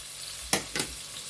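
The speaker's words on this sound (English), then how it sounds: "we just heat up the oil before we add in the onion. I'll put in the onion" Chopped onion dropped into hot cooking oil on a stove, giving a short, close sizzle that flares twice in quick bursts over a low background hiss.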